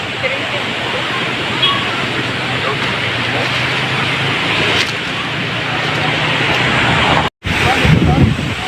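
Strong typhoon wind from Typhoon Odette roars steadily and loudly across the whole stretch, with gusty broadband rushing and microphone buffeting, a brief dropout near the end, then the wind resumes.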